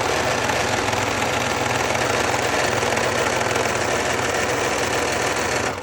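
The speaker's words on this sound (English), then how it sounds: "So now I'm going to use my serger" Serger overlocking the bottom opening and sleeve edges of a boxy blouse sewn from leftover fabric pieces, a steady, loud, fast mechanical whir running continuously without pause, nearby and alone.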